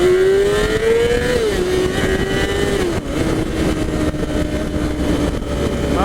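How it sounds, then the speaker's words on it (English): A 2014 Yamaha R6 sport motorcycle accelerating hard in second gear: a loud, close engine whine that climbs in pitch, dips briefly, then holds a high, steady drone. "Now I'm gonna reach 100 miles an hour in second gear."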